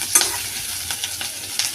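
Beans, carrot and capsicum sizzle softly in a pan for soup, with a few sharp scrapes and clicks of stirring over the steady frying hiss.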